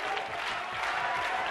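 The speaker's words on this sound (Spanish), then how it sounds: "La ovación de los equipos." Studio audience at a 1996 television game show giving the competing teams an ovation, a full, steady roar of clapping from a large crowd, loud and continuous for the whole moment with no talk over it.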